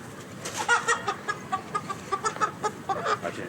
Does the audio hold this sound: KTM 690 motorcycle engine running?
no